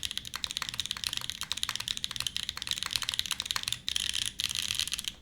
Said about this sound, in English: This is a tented Alice keyboard.